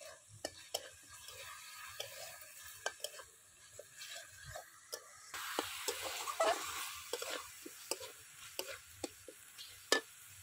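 Masala with green chillies and peas frying in oil in a wok, a soft steady sizzle with frequent sharp ticks of a spoon stirring against the metal, close and quiet with no talk.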